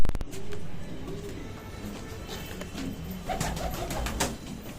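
Pet pigeons coo in low, throaty, repeated calls close by, with a faint flutter or two over continuous background noise.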